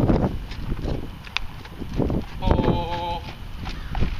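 A horse trots on a loose rein with soft, rhythmic hoofbeats, while a person's voice is briefly heard over them.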